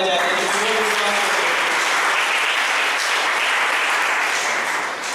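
A church congregation at a Sunday evening service breaks into loud, sustained applause, a dense wash of clapping that fills the space steadily for several seconds after a brief voice at the start.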